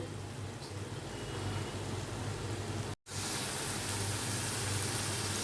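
Snake gourd in poppy seed paste fries in oil with a soft, even, continuous hiss, quiet and unbroken except for a momentary dropout midway.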